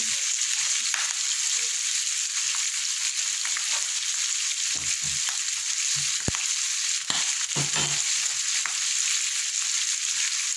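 Vegetables sautéing in a pan for Filipino kare-kare: a constant bright sizzle of frying with occasional soft stirring scrapes and clinks, steady and close with no voices.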